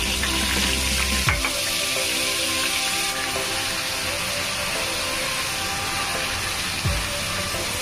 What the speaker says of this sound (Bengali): মশলাটা আমি ভালো মতন কষিয়ে নিব।